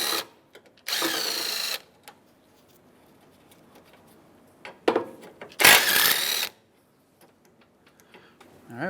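A ratchet works loose 10mm bolts on the A/C condenser of a 2007–2013 Acura MDX, with two close bursts of rapid clicking separated by quiet shop pauses and faint ticks.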